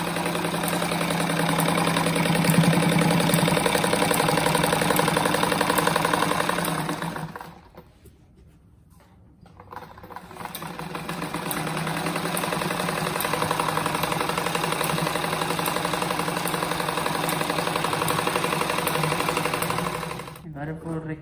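A sewing machine stitches around the edge of a patchwork scrap apron, running in a loud, close, rapid mechanical whir that stops briefly midway and then resumes at the same pace.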